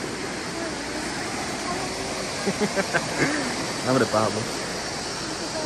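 A river in El Salvador rushes in a steady, loud, broadband flow that fills the whole scene, while people nearby talk over it with a few short exclamations.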